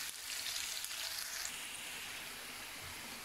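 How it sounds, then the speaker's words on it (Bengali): Chopped onions sizzle steadily in hot oil for a hotel-style chana dal, a loud, even crackling hiss throughout with no talking. "তারপর পেঁয়াজ কুচি দিয়ে দেব।"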